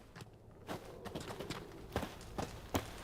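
The hooves of Roach, the horse in The Witcher 3, clip-clop in an uneven series of soft, moderately close hoofbeats over quiet background ambience.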